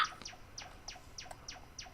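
Bird calls from the shoot'em up game A Quiver of Crows repeat as about six quick, sharp chirps in an even rhythm, faint and alone.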